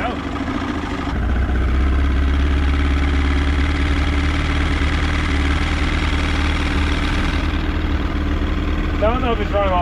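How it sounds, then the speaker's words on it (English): A 1960s 90hp Evinrude outboard boat motor starts up and runs at a steady, throbbing idle, close and loud, with a slight change in pitch near the end. "I don't know if it's running all four cylinders, but sounds good enough."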